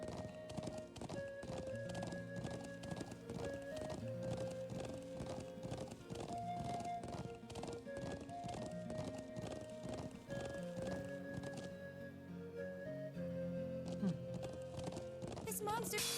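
Horse hooves clip-clopping at a run in the video game Trails of Cold Steel, a rapid rhythmic patter with a whinny, over game music and characters talking.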